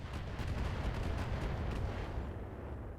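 Missile attack in the BattleTech video game: a continuous heavy rumble of explosive, artillery-like blasts lasting throughout, dense and loud with no talk.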